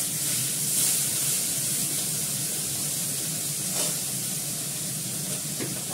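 A gas stove burner being lit in a home kitchen, with a steady broad hiss of gas flame throughout and a couple of faint brief clicks, fairly close and alone.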